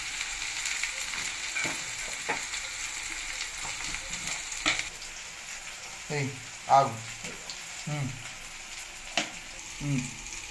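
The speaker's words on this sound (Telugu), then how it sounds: "ఈ వంకాయలు ఇలా తిప్పుకుంటూ ఉంటే మొత్తం కలిసిపోతుంది కదా ఫ్రెండ్స్." Eggplant pieces with onions stirred in a frying pan for an eggplant and tomato dish, a constant sizzle broken by scraping spoon strokes, with a voice talking in the second half.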